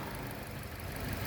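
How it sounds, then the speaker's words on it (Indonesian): A 2016 Suzuki Ertiga 1.4 GX manual with a 1400 cc four-cylinder engine idles quietly, a faint, steady, even hum with no speech. "Pastikan bahwa suara mesinnya ini ritmenya konstan"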